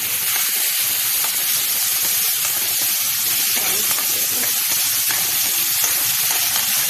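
Tomato frying in a pan for a soybean curry gives a loud, dense sizzle that carries on without a break, with faint stirring underneath.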